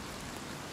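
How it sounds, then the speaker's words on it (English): Rain in Oblivion Remastered, heard underground as a steady broadband hiss of falling rain, even and continuous, with no voices over it. "We can hear the rain for some reason."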